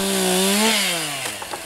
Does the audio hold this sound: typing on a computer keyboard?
no